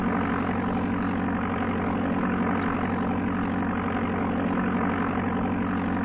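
The light aircraft engine in the Amiga Flight Simulator II game runs as a steady, buzzing, even drone at constant speed for several seconds, alone and unbroken.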